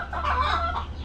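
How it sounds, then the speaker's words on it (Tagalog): Breeding chickens in a backyard cluck steadily and fairly close, a continuous murmuring chorus with no talk over it. "marami kayong manok na binibreed sa inyong yard"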